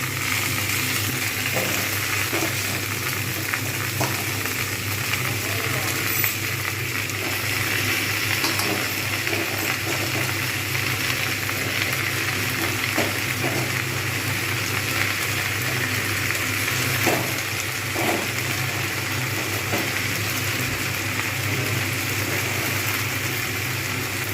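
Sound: spinach and bottle gourd leaves frying in a pan

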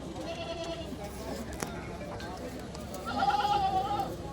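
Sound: goats bleating at a goat market

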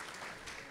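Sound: applause for the birthday people

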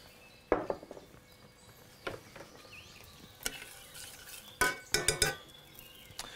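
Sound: stirring sauce in a pan

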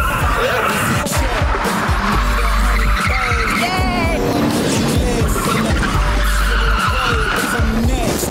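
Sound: stunt car racing

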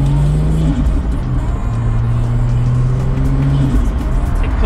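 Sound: Ford FG X car with performance exhaust, middle muffler removed

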